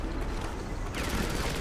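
Dense, continuous gunfire from the Frontlines: Fuel of War video game, a loud clattering barrage with no pauses that runs the whole moment, more like sustained automatic fire than single pistol shots.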